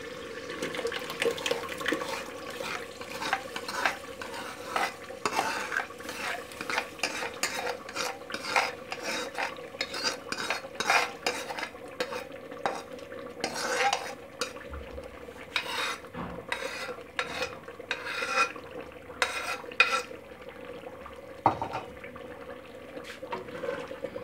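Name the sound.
ground spinach being added and stirred into mutton in a pot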